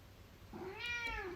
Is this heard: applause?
no